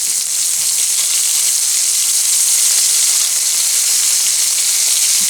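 Fresh tomato sautés in a hot pan for a cooking dish, giving a steady, close, bright sizzle and hiss with no talking.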